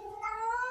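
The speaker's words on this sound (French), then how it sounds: "Oui, tu vas miauler là-bas à côté." A house cat gives one drawn-out, whining meow with a rising pitch, close and clear, alone without talk.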